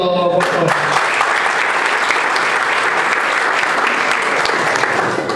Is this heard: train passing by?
no